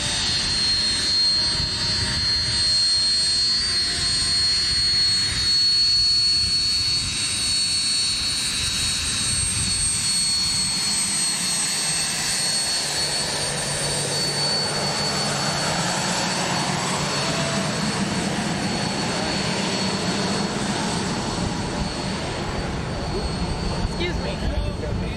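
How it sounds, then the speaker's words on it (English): White Knight, a jet-powered carrier aircraft, taxiing past at Mojave: a loud, continuous broadband jet roar fills the whole stretch, shifting and swelling in tone as it moves by, with any crowd sound buried beneath it. "the cheers and applause from the crowd are lost in the noise from the powerful jet engines of White Knight as it taxis past"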